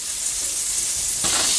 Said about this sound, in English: I'm going to put a tablespoon of butter in our skillet